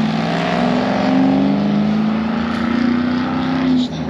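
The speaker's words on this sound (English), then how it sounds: "you got a slow vehicle with loud exhaust, you got to floor it all the time" A slow vehicle's loud engine with a throaty exhaust drones steadily at full throttle, revving and holding a strained pitch for several seconds before easing off at the end.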